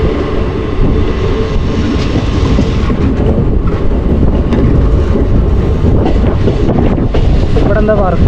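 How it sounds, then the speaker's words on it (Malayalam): A train rolls slowly past construction work on a rail line near Coimbatore, with a steady close rumble and faint wheel clatter, wind buffeting the microphone throughout and no talk. "അതാണ് ട്രെയിൻ സ്ലോ ആയത്."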